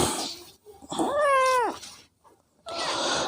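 A domestic cat lets out one clear, drawn-out meow, loud and close, with bursts of hissy noise just before and after it.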